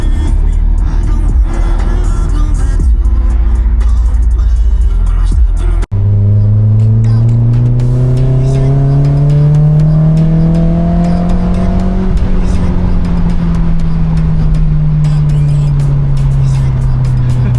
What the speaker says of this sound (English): Man, I forgot how much I love driving this car.